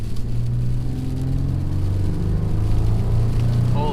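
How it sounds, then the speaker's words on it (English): A 2019 Toyota 4Runner on Bridgestone Blizzak tires accelerates on an icy road, its engine rising in a steady, loud rumbling drone with a whirring pitch that climbs over nearly four seconds, no voices. "So let's do a little acceleration here"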